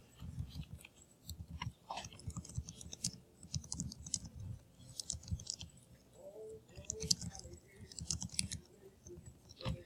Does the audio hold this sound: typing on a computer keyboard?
yes